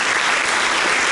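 A church congregation bursts into dense, even applause during a morning service, a brief, close wash of many hands clapping at once.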